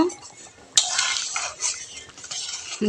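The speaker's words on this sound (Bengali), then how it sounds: "এখন আমি ধনে পাতা দিয়ে ডালটা একটু নেড়ে চেড়ে নামিয়ে নিব" A spoon stirs dal with coriander leaves in a pot, giving close scraping and clinking strokes over a soft simmering hiss, loud and busy for a few seconds.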